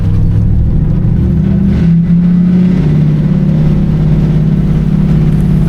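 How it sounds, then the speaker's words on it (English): Diesel engine of the little narrow-gauge train in Corsica working hard as it pulls out of the station, a loud, steady low rumble with a rising throb, heard close and continuous with no talk. "the glorious sound of the diesel engine kicks into action."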